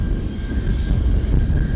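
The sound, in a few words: Gulfstream jet taking off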